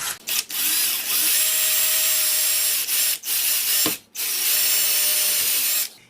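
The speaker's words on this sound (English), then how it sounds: "you see my drill bit's real dull" A power drill fitted with a dull bit bores a hole for a kit assembly, its motor whining steadily and loud for several seconds, broken by a few brief pauses and restarts, with no talking.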